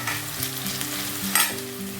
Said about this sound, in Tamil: இப்போ இஞ்சி பூண்டு வெங்காயம் எல்லாம் பாருங்கள் ஓரளவு நல்லா வதங்கிருச்சு.